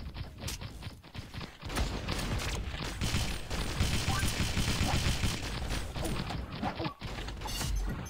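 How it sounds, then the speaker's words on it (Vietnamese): Rapid automatic gunfire from a futuristic weapon in the Pixel Gun mobile shooter game, dense bursts of clattering shots with mechanical clicks, loud and continuous with a player talking over it. "mình sẽ dùng cái súng này để bắn"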